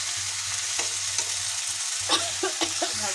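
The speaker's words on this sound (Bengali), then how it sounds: "এই যে ব্রকলিটা ভাজা প্রায় হয়ে গেছে।" Broccoli with beans, potato and onion fries in a pan, a steady close hiss of sizzling oil with occasional soft clinks and scrapes of stirring.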